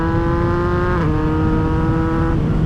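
A Yamaha MT-09 motorcycle accelerating hard, its engine whine climbing and then clicking up a gear through the up and down quick shifter with a quick drop in pitch, loud and close with wind noise, no talk.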